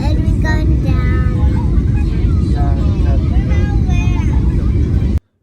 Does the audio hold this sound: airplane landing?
yes